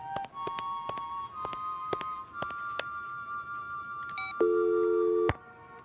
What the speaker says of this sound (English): The line is dead.